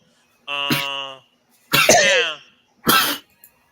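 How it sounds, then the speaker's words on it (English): Three separate harsh coughs, loud and close, spaced about a second apart with short silences between them. "While you're coughing up your lung"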